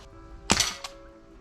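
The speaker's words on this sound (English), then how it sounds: "we're going to do last 12 shots through here, sort out the where the rounds are going" A rifle fired at night through a clip-on Commander NV100 digital night vision scope gives one sharp, loud, close report with a quick second crack trailing just behind, over a low steady hum.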